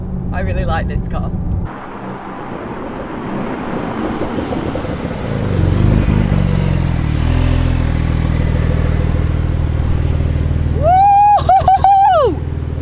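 A Maserati MC20 launches hard with launch control, its engine rising from a low idle into a loud, swelling roar that builds and holds as the car takes off, close up, with excited shouts and voices breaking in near the start and end.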